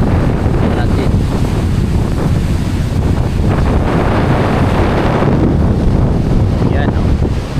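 Strong southeast typhoon wind roars steadily into the microphone over the broad wash of large ocean surf at Dinahican, Infanta, Quezon, a constant loud rush with no pauses.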